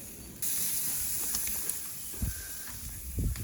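Cypriot meze and mushrooms sizzling on the grill give off a steady, close hiss that starts suddenly and holds, with a few soft knocks underneath.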